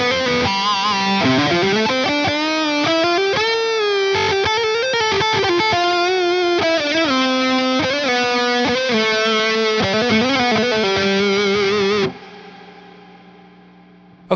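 Electric guitar run through a multi-effects unit and a Line 6 POD Go with reverb added, playing a steady melodic line loud and up close, then cut off so the reverb tail rings out and fades.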